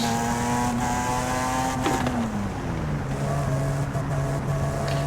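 A 2012 Lotus Elise S in Forza Horizon 5 accelerates at full throttle, its engine droning loud and close, then dropping in pitch through a sluggish gear change before droning on.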